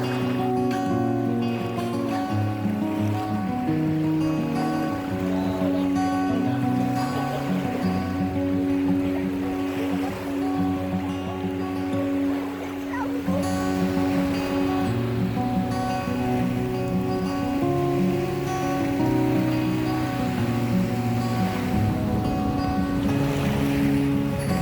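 Ocean waves wash onto a beach at the water's edge, a steady rushing surf with wind noise over the microphone and a low tonal hum running throughout, no talk.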